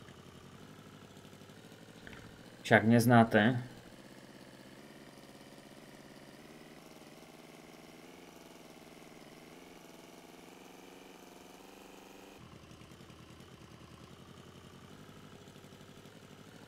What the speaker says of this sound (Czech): Okýnko otevřeme, ať slyšíme motor trošku